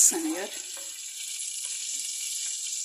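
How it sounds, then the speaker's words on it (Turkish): Semolina being toasted in oil in a pan for Turkish semolina halva gives a steady, faint frying sizzle throughout, after a brief voice at the start. "irmiği ilave ediyorum. Kokusu çıkana kadar 3-5 dakika"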